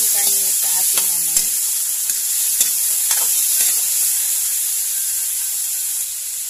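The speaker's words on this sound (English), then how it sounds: "Igisa lang natin yung ating karne sa ating ano" Pork sautéing in a pan with a loud, continuous sizzle and hiss, punctuated by a few light utensil clicks as the meat is stirred.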